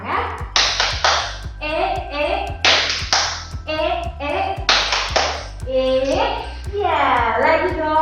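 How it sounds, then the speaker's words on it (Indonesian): Children doing a rhythmic spirit clap led by an instructor in a group class: sharp, patterned bursts of claps alternate with chanted voices, close and loud, repeating in a lively sequence. "Tepuk semangat."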